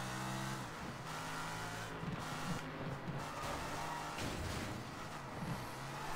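A car engine in the video game Sleeping Dogs hums and revs steadily as it accelerates, a continuous moderately loud drone with slight pitch shifts and no talk over it.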